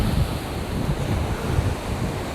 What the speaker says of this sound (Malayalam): ഇന്ന് നല്ല തിരയുണ്ട്